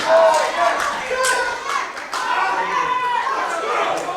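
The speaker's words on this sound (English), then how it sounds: "This crowd cheering Pat on." Wrestling crowd at a Xcite Pro Wrestling show cheering and clapping for Pat Sawyer against Big Bill Collier, a steady, fairly loud wash of voices and hands running throughout, with chatter mixed in.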